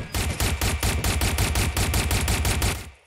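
In the video game Watch Dogs Legion, gun turrets fire a loud, sustained stream of rapid, evenly paced automatic shots for about three seconds, then fall quiet. No one talks.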